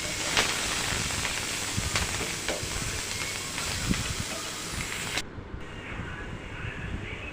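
Eggplant slices fry with chopped onion and green chili, giving a constant close hiss of sizzling oil with scattered sharp clicks and scrapes from stirring, the sizzle softening slightly near the end.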